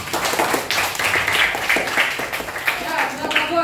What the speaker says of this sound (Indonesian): Beri tepuk tangan untuk Raymond.